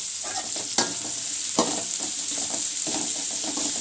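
Onions sautéing in hot oil for puffed rice upma, a steady close sizzle broken by a few sharp scrapes and clinks of a spoon stirring the pan.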